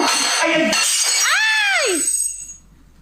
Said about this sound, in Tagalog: May nabasag na, pusa.